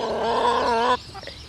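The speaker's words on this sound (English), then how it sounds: "you're always making noise, you chicken" A black hen clucking close by in a garden, a few rising, harmonic calls packed into a second before breaking off into quieter scratchy noise.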